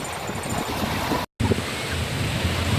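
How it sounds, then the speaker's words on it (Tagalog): Sea waves wash steadily at a beach, a continuous close surf rush with wind noise on the microphone and a brief dropout partway through. "Ang ganda ng dagat."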